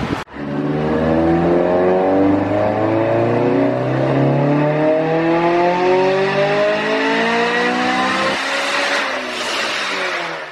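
Honda S2000, a 2007 car with stock exhaust and a Skunk2 head, revving on a dyno in one long, steady pull, its pitch climbing smoothly for about eight seconds before dropping off abruptly, loud and alone.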